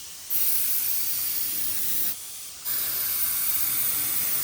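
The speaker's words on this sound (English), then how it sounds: "So all right, so we got the gun to work. Give me the amount of air right." A paint spray gun hisses compressed air through a small line during fine-line paintwork on a motorcycle build, a steady broadband hiss that cuts out briefly twice and resumes, close and moderately loud.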